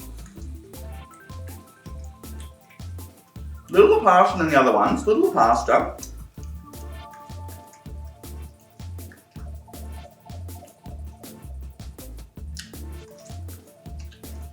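Thin, watery Australian mac and cheese drips and plops repeatedly from a spoon in a quick, regular rhythm of close wet splats, while someone talks briefly partway through.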